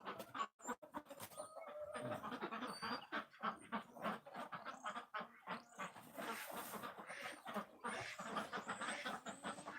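Chickens on a farm cluck and squawk in a busy, overlapping chorus, faint and fairly distant, with scattered louder calls and some bird noise mixed in and no clear talking.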